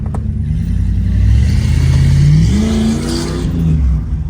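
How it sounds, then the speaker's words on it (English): A Pontiac Formula Firebird engine revs loudly through a deep, rumbling Flowmaster cat-back exhaust, rising in pitch, easing off, then climbing again, close by. "So it's got catback Flowmaster exhaust."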